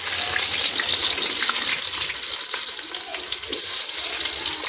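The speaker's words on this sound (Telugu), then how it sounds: "ఉల్లిపాయలు వేసుకుందాం." Chopped onions sizzle in hot oil in a pan over a wood fire, making a loud, steady, bright hiss that fills the whole stretch.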